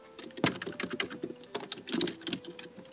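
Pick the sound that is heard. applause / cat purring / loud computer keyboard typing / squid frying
loud computer keyboard typing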